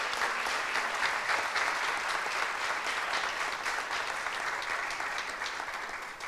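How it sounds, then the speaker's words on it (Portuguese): Sustained, steady audience applause for debate panelists at an architecture event, dense and even throughout with no talk over it. "queria pedir uma salva de palmas para esses grandes profissionais."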